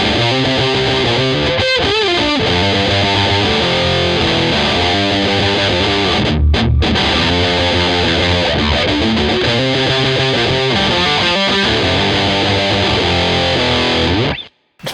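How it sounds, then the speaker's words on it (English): Electric guitar pushed through a huge, thick distortion tone plays a driving riff, loud and sustained with chugging repeated notes, a short break midway and an abrupt stop at the end. "powerful distortion like the prime distortion"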